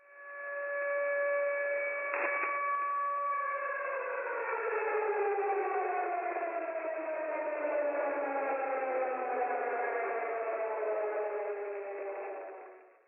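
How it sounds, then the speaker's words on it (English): Warning sirens broadcast over a shortwave radio station known for its ticking clock signal: a steady multi-tone siren wail that holds pitch, then slowly glides downward over several seconds, sustained and loud with a faint hum beneath. "When it's not playing its ticking clock sound, it usually plays warning sirens."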